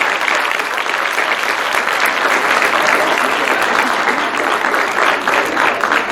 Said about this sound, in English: A very much deserved applause